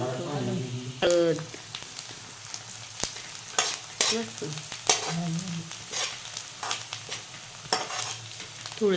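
Dried sandge frying in oil with cumin and mustard seeds, giving a sizzle with crackling pops and the scrape of stirring, broken into irregular bursts, while someone talks over it.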